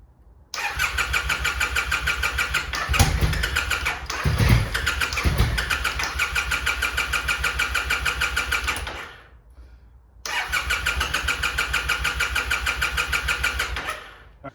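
A theft-recovery auction motorcycle starts on choke with the throttle opened and runs at a loud, steady idle close by. A few throttle blips come early, the engine cuts out for about a second, then it fires again and keeps running.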